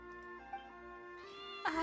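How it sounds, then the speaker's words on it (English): A cat meows in the Genshin Impact video game, in Chaoying Village in Chenyu Vale. One short meow is heard near the end over a steady tonal game soundtrack, moderately loud with no talking. "Look, do you not see this cat?"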